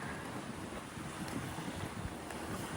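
Wind gusts across the shore with sea waves washing in, a steady, loud broadband rush with no voices, recorded outdoors by the water in the USA.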